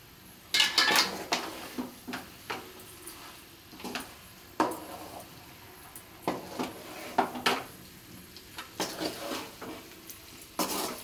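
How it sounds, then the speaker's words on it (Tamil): Boiled egg noodles are tossed through spicy masala in a pan, with irregular scraping and clanking of a spatula against metal over a faint low sizzle, and no talking. "இப்போ நல்லா நம்ம இந்த மசாலாவோட நூடுல்ஸை போட்டு நல்லா ஃபுல்லாக மிக்ஸ் பண்ணி விட்டாச்சு"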